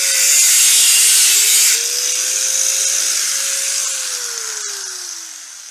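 Power saw slicing through a piece of wood while rebuilding a garden gate, a loud, close, steady whining cut whose pitch rises and then sags as the blade works through the timber.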